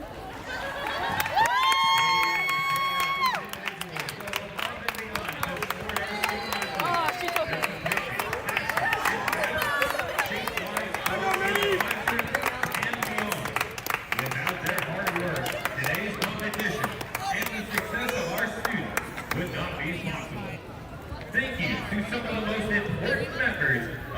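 A crowd at a women's NCAA gymnastics meet claps and cheers in a long, steady wash of applause, with a voice over the loudspeaker talking above it.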